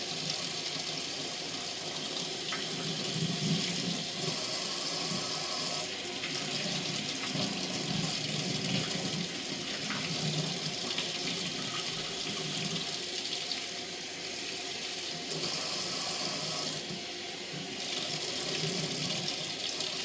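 Water runs steadily from a sink tap during hand scrubbing, a continuous close splashing rush that lasts throughout with no speech.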